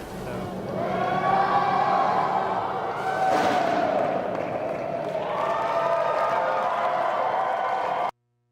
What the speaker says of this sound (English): That was the crowd cheering for Andy Taylor.